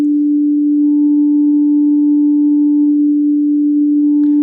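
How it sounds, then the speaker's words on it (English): A steady, pure sine test tone holds constant and loud throughout, with a fainter higher tone briefly joining in the middle and again at the end. "a sine wave by definition never starts and never ends."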